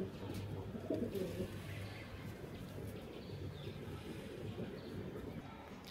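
Pigeons cooing at a home loft of racing pigeons, low repeated coos close by over a steady wind-like background hiss.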